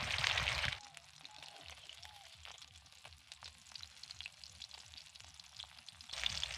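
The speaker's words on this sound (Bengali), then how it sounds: "মাছগুলোকে আমি উল্টে দিয়েছি এবার লাল লাল করে আমি ভেজে নেব" Fish turned over in hot oil to brown, giving a loud burst of sizzle, then quieter steady crackling and spitting, and a louder surge again at the end, close by with no voices.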